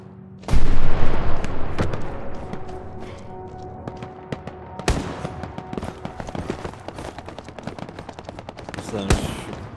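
Loud machine gun bursts in Hell Let Loose, a World War II shooter, crack nearby amid scattered rifle shots and distant battle rumble, with sharp isolated reports punctuating the steady firing.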